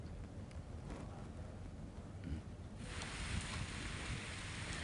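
Early monsoon rain falling in Visavadar, Junagadh, Gujarat, a fairly faint, steady hiss that swells noticeably louder partway through, with no distinct thunderclap standing out.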